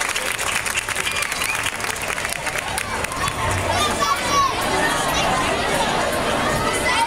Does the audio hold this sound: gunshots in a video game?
no